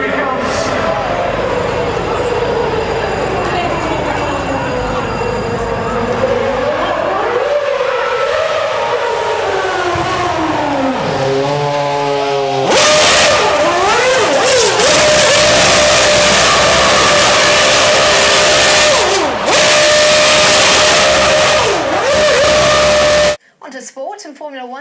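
McLaren Mercedes Formula One car passing through Manchester city centre, its high engine note sweeping up and down in loud, rising and falling runs with a sharp gear-shift ladder midway, over a constant roar of a large crowd.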